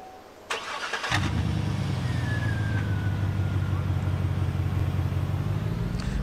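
A pickup truck engine in Farming Simulator 22 cranks and then catches at about one second, settling into a steady, loud, close idle that runs to the end. A faint tone sweeps through the higher range during the idle.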